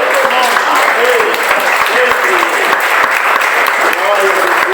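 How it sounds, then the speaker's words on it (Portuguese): A church congregation claps in loud, steady applause close by, with voices calling out under the clapping. "Por isso te aplaudimos."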